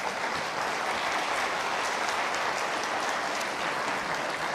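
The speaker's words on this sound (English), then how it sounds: "a round of applause to our first plenary" A conference audience applauds the first plenary speaker with steady, continuous clapping that holds at an even level throughout, with no voices over it.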